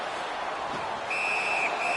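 A referee's whistle in an ice hockey video game, a thin steady tone that sounds for about half a second and then briefly again, over a low constant crowd murmur.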